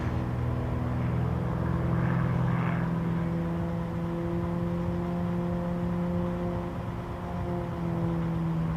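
A prototype aerobatic propeller aircraft flying at national championship air races, its steady droning engine and propeller tone loud and continuous, slowly shifting in pitch.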